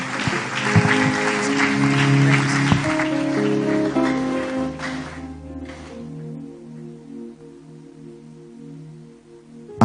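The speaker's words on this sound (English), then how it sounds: "The clap offering." A church congregation at a candlelight service gives a clap offering, loud, dense applause over sustained keyboard chords for about six seconds, then the clapping drops away and the music continues quietly.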